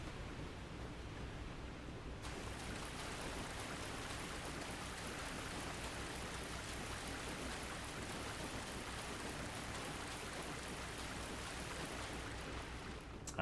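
Loud rushing waterfall in the Dark Souls video game, a dense, steady roar of falling water close up, beginning abruptly after a brief quieter start and running unbroken with no talking.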